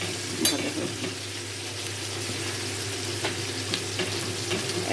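Rui fish fries in a pan of oil, a soft steady sizzle with a sharp clink early on and a few faint crackles, fairly quiet and without talk.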